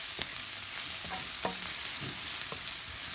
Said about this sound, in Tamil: தூள் தேவையான அளவு தூளை போட்டு சரியான ஃப்ளேமை குறைச்சி மெல்ல மெல்லமாக வறுங்கோம்